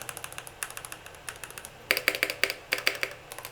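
Clicky keystrokes on a Keychron K8 Pro mechanical keyboard, close and crisp, in uneven bursts of rapid taps with a few louder clacks partway through, no voices.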